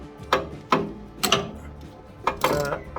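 A hand ratchet with an 8mm socket on a long extension undoes the rear A/C evaporator bolts on a Land Rover Discovery 3/4, giving several short clicking bursts at uneven intervals, close and moderately loud.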